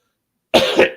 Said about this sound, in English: there's me clearing my throat